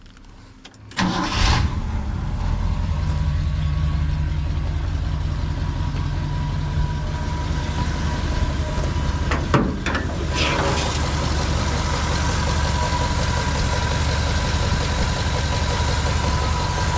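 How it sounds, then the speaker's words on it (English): A 1969 Ford F250 truck engine cranks and catches, then settles into a loud, steady, rumbling idle close by. A brief rev or clunk interrupts it midway, and nobody speaks. "We'll turn it over here real quick too and just show you how easy it is."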